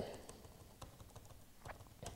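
Typing on the keyboard of a Medion Akoya P2211T 11.6-inch 2-in-1 laptop, with quiet, quick key clicks in an uneven rhythm, close by and soft.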